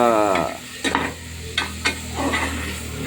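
Tomatoes are stirred in a cooking pot for egg biryani, a few distinct scraping strokes and soft clatters over a low sizzle, close and fairly loud.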